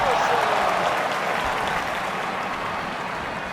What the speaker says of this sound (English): the Japanese fans applaud in approval